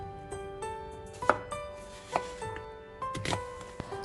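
A knife slices through mini potatoes, halving each one, with several sharp separate cuts against a board over a faint steady kitchen hum and no talking.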